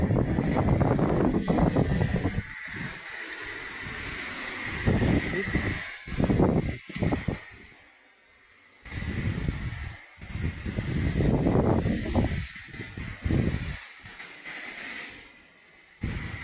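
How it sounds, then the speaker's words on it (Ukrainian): Strong gusts of wind buffet the microphone in rough, uneven bursts, rising and falling with short lulls between, in an autumn garden. "Ви чуєте, який вітер?"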